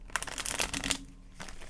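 Tarot cards are shuffled with quick papery riffles and flutters, a short burst of crisp crinkling followed by a pause and one more soft shuffle.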